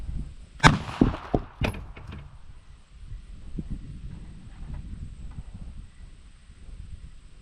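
A compressed-air potato cannon fires with a sharp, loud bang, followed by a couple of further cracking impacts, then quiet outdoor rustling and low background noise.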